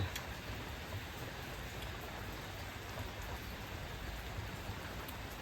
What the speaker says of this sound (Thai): ฝนสิตกฝนจะตก